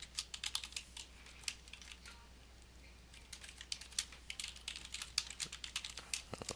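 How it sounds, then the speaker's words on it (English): Typing on a computer keyboard, quick irregular runs of light key clicks with short pauses, close and fairly quiet over a low steady hum, no talking. "probably a little bit more typing this week than we haven't had in the past"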